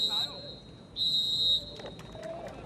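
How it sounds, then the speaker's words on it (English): A referee's whistle signals halftime at a Concacaf League football match between Waterhouse FC and Arcahaie FC, two shrill blasts, the second longer, heard over crowd ambience with faint voices. "that whistle doesn't come nearly soon enough"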